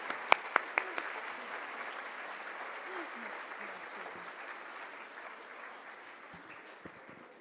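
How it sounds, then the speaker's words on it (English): Audience applause at a women in governance gala in Toronto, a dense sustained wash of clapping with a few sharp close claps at the start, gradually fading. "let's give another round of applause"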